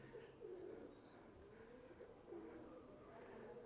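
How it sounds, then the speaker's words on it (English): Pigeons coo softly inside the brick Dhammayangyi Temple in Bagan, Myanmar: a few low, rolling coos repeat a couple of times, faint and somewhat distant in a quiet, echoing interior. "Now I can hear some pigeons."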